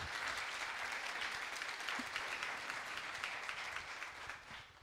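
Steady audience applause at a talk on hacking the brain in five steps, with even, moderately distant clapping from a crowd that continues for about five seconds before tapering off.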